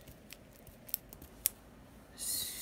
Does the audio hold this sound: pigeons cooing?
no